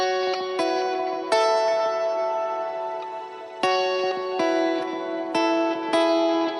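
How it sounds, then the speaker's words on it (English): Electric guitar through a shimmer reverb preset on a Line 6 Helix, with parallel routing; a series of sustained chords struck every second or so, each ringing into a bright, lingering wash of layered reverb. "Shimmer reverb."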